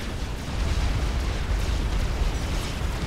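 An area effect bomb detonates in a Forged Alliance Forever real-time strategy match, a custom 3v3v3v3 game, as a dense, steady rumbling roar that fills the whole stretch without any voice over it.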